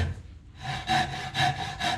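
A hand saw cuts through a wooden joinery member in carpentry practice: after a short pause, four quick, even rasping strokes follow one another at close range.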